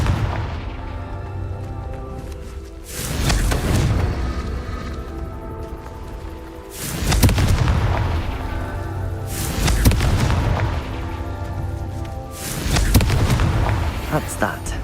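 Confringo fire-blast spells exploding in the Hogwarts Legacy video game: four heavy booms roughly every three seconds, each with a rumbling tail, over a continuous bed of game sound and a muffled voice.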